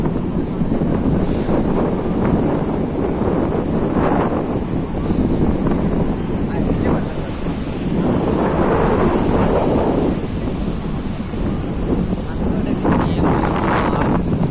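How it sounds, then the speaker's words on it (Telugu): Big ocean waves at Candolim beach in Goa, a constant loud roar of surf with swelling crashes, buffeted by heavy wind noise on the microphone. "పెద్ద పెద్ద అలలు ఇంకా."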